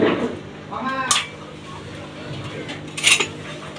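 A spoon clinks and scrapes against a bowl as shampoo, lemon and toothpaste are stirred together to clean old gold jewellery at home, with two brighter metallic clatters standing out over a soft voice.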